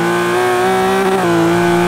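A 700HP turbocharged 1995 BMW E34 M5 with an S38 engine in Forza Horizon 3 holds a loud, steady high-rpm drone near 7100 RPM, its tone wavering slightly before settling.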